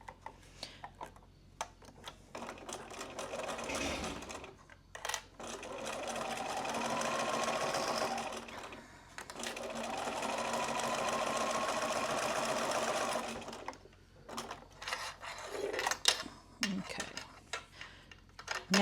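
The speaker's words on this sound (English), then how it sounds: "So let's sew it at 1/8." Sewing machine running in bursts of stitching 1/8 inch from a folded edge, with two longer steady runs separated by pauses and handling clatter, close and moderately loud.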